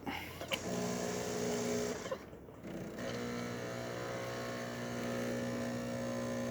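A Jura Z6 coffee machine with a newly serviced PEP spout motor dispensing coffee through both spouts, a steady close pump and motor hum that briefly drops away and then resumes alone.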